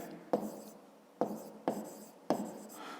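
A pen writing on paper during a fifth-grade maths exercise, four brief scratchy strokes close up, each starting with a soft tap and trailing off, in a quiet room with no talking.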